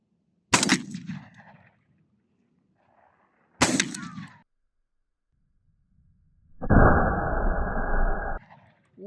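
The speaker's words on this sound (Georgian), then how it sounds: "ამიტომ ვესვრი და ნახოთ 25 წელზე საფანს მაინც როგორ ვკაფანტავ" Two sharp, loud blasts from an Alpharms 19SA 12-gauge semi-automatic tactical shotgun ring out about three seconds apart. Each has a short decaying tail, and a longer steady noisy burst follows. No one speaks.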